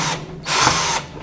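A power screwdriver whirs in two close, loud bursts while taking the screw out of a door latch during a switch from keyed to digital locks, with a short pause between runs.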